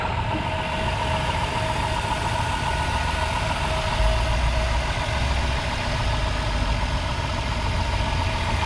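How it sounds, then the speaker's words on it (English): A 2005 Dodge Grand Caravan's 3.8 liter V6 running at a steady idle, a continuous even hum heard up close under the open hood, with no talking. "but motor sounds pretty good."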